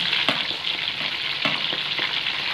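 Prawns frying in hot oil, a dense bright sizzle that stays steady and close, with a few crackling pops, no voices.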